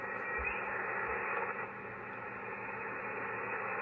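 Receiver static hiss from a radio tuned off the stations, a steady broadband noise that holds at a constant level throughout with no voices.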